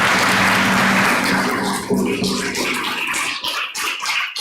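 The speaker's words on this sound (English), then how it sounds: "Give Bodhi and Chris big applause one more time, please." Applause from an audience for a pair of drummers at a Sunday gathering, dense clapping at first that fades into scattered claps within a few seconds.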